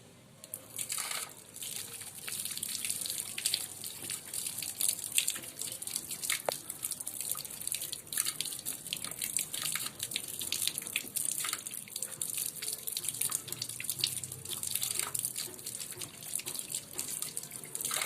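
Tap water runs steadily into a sink while hands are rinsed under it, with small splashes and drips throughout, close and continuous with no talking.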